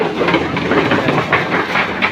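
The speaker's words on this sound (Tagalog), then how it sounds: "may tumawid na mga motor sa taas. Kaya medyo may kaunting ingay." Motorcycles rumble across an overhead crossing above a river in Tanay, Rizal, producing a steady, loud rattling roar with rhythmic clattering that fills the moment without any voices.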